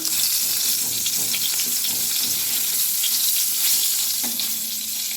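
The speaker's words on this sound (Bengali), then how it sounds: "তো বেগুনটা ভেজে নিই" A slice of eggplant seasoned with salt and turmeric fries in a little oil, giving a close, steady, bright sizzle with crackles throughout and no talk.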